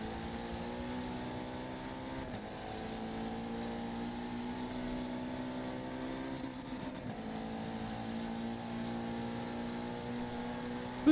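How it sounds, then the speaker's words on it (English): A Mazda Miata race car leaving the pit lane at the Nürburgring GP circuit during a four-hour endurance race, a steady, fairly distant engine drone holding one tone with a brief dip midway. "That's Miata coming out of the pit lane"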